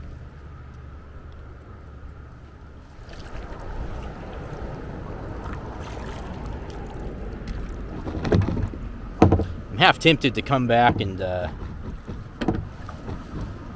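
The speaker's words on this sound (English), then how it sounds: "do this again when it's not super windy out" Steady wind rushes and buffets over open water on Black Lake with occasional gusts during bass fishing, while a person talks briefly near the end.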